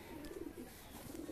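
Several high-flying pigeons in a breeding loft give low, throaty coos, a steady overlapping murmur of calls recorded close up with light background rustle.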